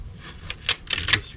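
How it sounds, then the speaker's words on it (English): Black camo vinyl accent stripe tape peeled and released on a 1436 jonboat, heard as a quick series of close, crisp ripping crackles in short bursts over a low background rumble. "And then you release your tape."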